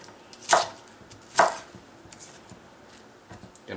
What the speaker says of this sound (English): Napa cabbage. Same thing. I'm going to cut the ends off